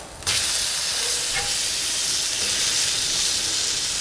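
Bacon hits a hot Blackstone flat-top griddle and breaks into a loud, continuous broadband sizzle that starts abruptly and holds steady, close by with no talking.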